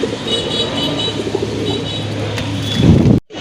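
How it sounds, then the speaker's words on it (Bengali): Colourful fancy pigeons kept for sale near Gazipur, Dhaka, cooing softly in a continuous low murmur close by, with a brief louder rustle near the end before the sound cuts off. "চলেন আর কথা বলবো না, আপনাদেরকে কবুতরগুলো দেখাই।"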